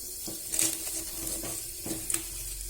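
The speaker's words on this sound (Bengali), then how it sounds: "এবার শুকনো লঙ্কা ফোড়ন দিলাম" Dried red chillies sizzling as they are dropped into hot oil for tempering a chicken dish, a soft steady crackle with a few brief louder pops, heard alone.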